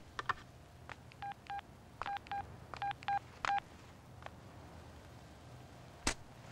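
A phone number is dialed on a touch-tone phone, producing a string of short, evenly spaced beeps with brief pauses between them, followed by a sharp click, against a quiet background.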